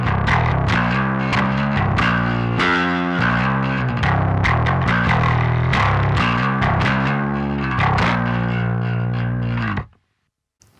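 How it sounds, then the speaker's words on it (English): Fuzzy, buzzy electric guitar runs through the omega side of a drive pedal, with dense distorted chords and riffs playing loudly and steadily for about ten seconds before stopping abruptly. "Less throaty maybe, and a bit more kind of fuzzy in a way."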